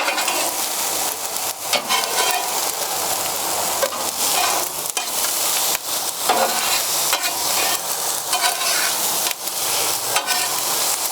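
Rice with vegetables and eggs stirred and fried in a hot pan for a fried rice dish, a steady loud sizzle broken by repeated scraping strokes of the utensil, close up and continuous with no talking.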